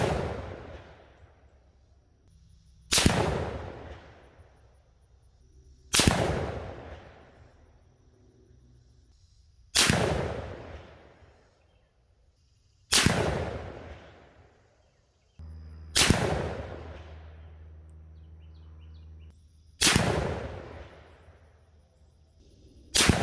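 Seven rifle shots from a .243 firing Sierra GameChanger 90-grain tipped GameKing ammunition at a range, each a sharp loud crack with a decaying echo, spaced about three seconds apart with no talking.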